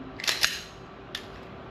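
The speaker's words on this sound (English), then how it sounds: "So I seat my magazine, load the gun." A handgun magazine being seated and the gun loaded, with two sharp metallic clicks close together near the start and a third fainter click a moment later, alone with no talk.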